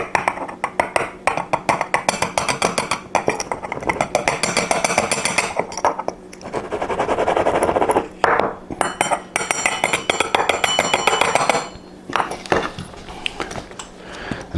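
Homemade cayenne pepper powder is poured and tapped into a small jar, producing rapid, repeated close clinks and glassy taps in an irregular rhythm, with a brief rustling pause midway.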